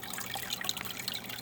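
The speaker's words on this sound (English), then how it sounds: "I just let the rest of the water drain some." Water draining from a nano reef aquarium during cleaning, a steady close trickling and bubbling with small splashy spikes and no talking.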